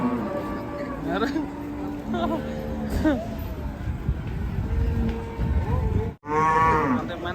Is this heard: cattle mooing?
yes